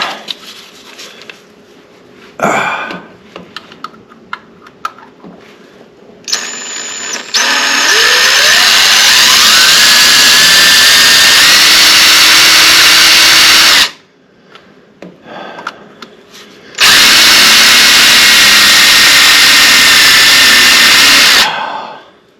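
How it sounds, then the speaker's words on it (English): A power drill with a blunt bit whirs loudly in two long sustained bursts, straining and grinding into an Opel engine near the dipstick hole, with quieter clanks and handling noises between runs. "Blunt drill bit."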